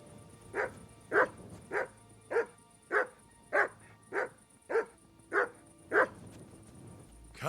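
A dog in Kingdom Come Deliverance II barks about a dozen times in a steady, evenly spaced run, each bark loud, short and close.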